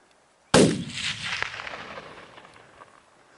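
A single loud rifle shot fired while hunting caribou outdoors, a sharp close crack followed by a long rolling echo that fades over about three seconds, with no talk during it.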